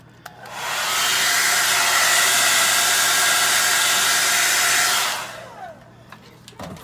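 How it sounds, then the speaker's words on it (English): A hair dryer roars steadily for about four seconds, loud and close, drying acrylic nail art, then cuts off, leaving faint clicks and handling sounds. "now I'm gonna get my dryer and we're gonna blow it out."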